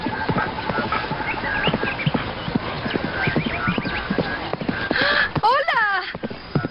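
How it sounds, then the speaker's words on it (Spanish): Horse hooves clip-clopping at a quick, rhythmic pace in a Jet Li martial arts action film, steady and close, with talking over the hoofbeats and a horse's whinny near the end. "Corre, caballo, corre."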